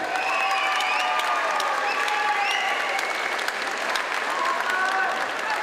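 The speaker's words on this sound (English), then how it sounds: "Big round of applause." Sustained applause from a crowd at an MMA event, steady and fairly loud throughout, with scattered whistles or cheers rising above the clapping.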